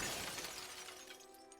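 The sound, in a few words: face shattering in the video game Dredge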